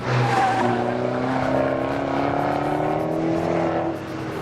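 Fiat 500 Abarth engine strains loudly while driven hard through corners, its pitch climbing steadily as it accelerates with a hint of tire noise, close and continuous before easing off near the end.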